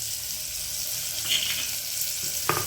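Green chillies and onion fry in hot oil for veg pulao with a steady, close sizzle throughout. A few clinks and stirring knocks come near the end, with no talking.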